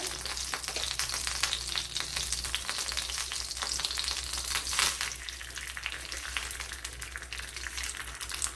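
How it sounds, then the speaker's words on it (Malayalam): Mustard seeds fry in hot oil for a gooseberry pickle, giving a steady, close, dense sizzle with fine crackling throughout and no voices. "കുറച്ച് കടുക് ഒന്ന് വറുത്തെടുക്കാം"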